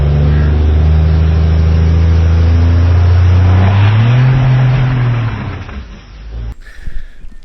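A diesel truck engine roars steadily and loud at a diesel showdown, its pitch climbing as it revs up on turbo boost, then cuts off abruptly near the end, leaving faint rattles.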